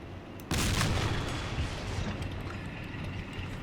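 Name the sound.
ISU-100 tank gun firing in the video game Men of War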